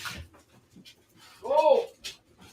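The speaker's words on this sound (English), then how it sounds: "The puppies are starting to get old enough to where when they got to use a restroom, they're whining" Puppies whining near at hand, a short rising-falling whimper after faint panting and small rustles, with a person's voice also present.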